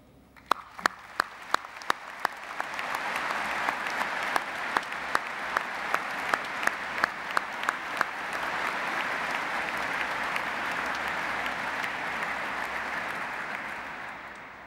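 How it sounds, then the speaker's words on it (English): A large crowd applauds steadily and loudly at a university graduation ceremony, with a few sharp individual claps standing out at the start before the clapping blends into a dense, sustained roar. "may we all please start by applauding our graduands."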